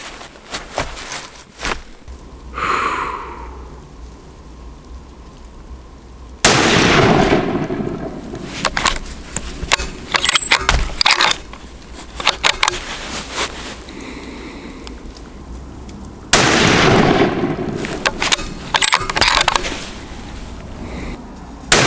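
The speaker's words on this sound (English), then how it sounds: "And we're gonna shoot a 3-shot group" Three loud rifle shots fired outdoors for a group during deer and elk hunting prep, each a sharp blast with a long rolling echo, spaced several seconds apart amid quiet.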